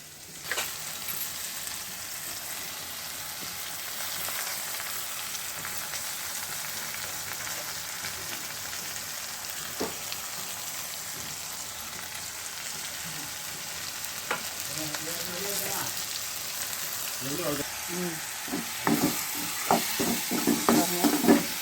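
Chopped sorrel leaves sizzle steadily in a hot pan, a continuous close frying hiss with occasional scrapes and clinks of stirring that grow busier toward the end.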